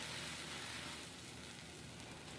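Augason Farms butter powder melting in a hot pan, a faint, even sizzle with a soft crackle running unbroken throughout.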